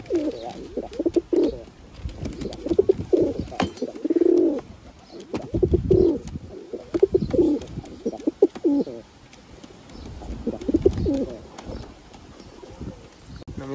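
Green pigeons, also called hariyal, coo repeatedly in soft, low, close-up phrases with short pauses between them. Faint chirps and small rustles sound alongside the calls.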